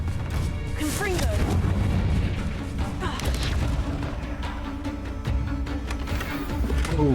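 A Confringo spell goes off in a Harry Potter game, a booming blast near the start followed by crashes and combat effects, while a player talks over the action.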